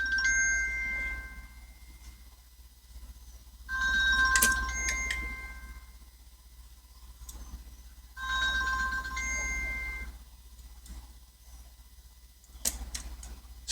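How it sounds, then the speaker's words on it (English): A phone rings with a spam call, a repeating electronic ringtone melody in about three evenly spaced bursts over a low steady hum, moderately close. "Spam call on my phone during the recording."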